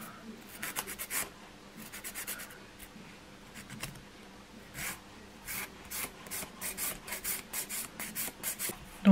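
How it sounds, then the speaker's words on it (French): A nail file rubs a fingernail straight across in quick, close scraping strokes, arriving in bursts with short pauses between them and no voices. "Là, je le lime bien droit."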